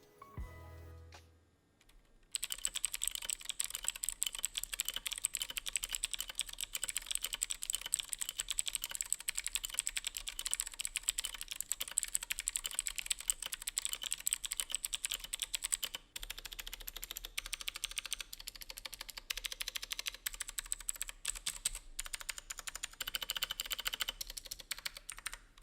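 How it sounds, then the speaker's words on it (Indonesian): Clicky switches rattle on a Gamen Titan IV mechanical keyboard with a steel plate and no dampening, typed fast and continuously for over twenty seconds after a short quiet start, close and crisp with no speech. "Kita dengerin dulu deh typing testnya."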